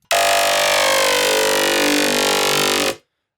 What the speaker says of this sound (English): just the bass that kind of like goes down